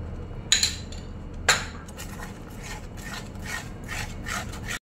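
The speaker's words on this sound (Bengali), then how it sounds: "খুব ভালো করে নাড়িয়ে দিলাম" A spoon stirs thickening custard milk with chhena in a pan on the stove, scraping and rubbing steadily with two sharp clinks against the metal near the start, close and alone.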